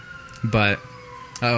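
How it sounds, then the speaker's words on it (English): A siren on a passing emergency vehicle wails steadily beneath brief spoken interjections, holding a sustained tone in the background. "if you guys can hear that, there's a siren going by."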